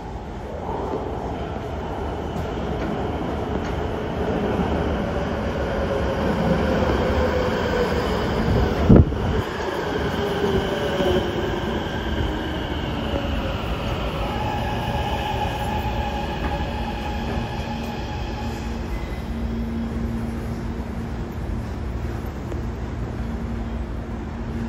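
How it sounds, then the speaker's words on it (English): Los Angeles Metro subway trains, including an HR 4000, rumble through Wilshire/Normandie underground station in a long, loud, steady roar with squealing wheel tones, a sharp metallic clank partway through and shifting pitch as cars roll past. "here is a mini compilation of some of the subway trains at this station, including the HR 4000."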